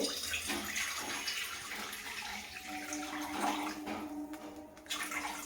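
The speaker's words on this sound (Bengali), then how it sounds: "1 কাপ জল দিলে" A cup of water poured into a cooking pot, a continuous close gush and splash of water lasting a few seconds with no talk.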